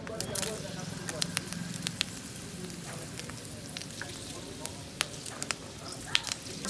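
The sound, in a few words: dried chilli and bay leaf tempering in hot oil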